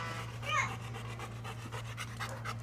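A dog pants in quick, rhythmic breaths close by, the steady huffing running through the whole moment over a low electrical hum, with a brief high voice briefly heard.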